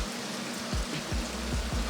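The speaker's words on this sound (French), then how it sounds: "On se tape un orage du Seigneur." Steady rain pours down in a thunderstorm with hail, a dense hiss of falling drops with low rumbling thuds recurring near the end.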